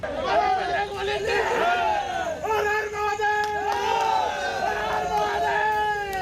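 A large crowd in Agra loudly shouts slogans and cheers in unison after rescuing a bull from a well, voices rising and falling in repeated waves of chanting close by.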